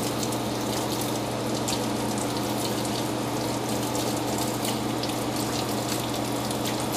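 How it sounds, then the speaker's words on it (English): Water from a kitchen sink sprayer runs steadily over charred roasted peppers, a continuous close hiss and splatter with no talking. "Put it under a sprayer. But look at that. That char is coming right off."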